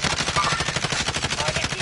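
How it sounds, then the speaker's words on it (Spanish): Rapid automatic gunfire in a shooter video game: a continuous string of quick, evenly spaced shots that stays loud and close for the whole stretch, with no talk over it. "Gary, mira, estoy viendo los tiros por ahí."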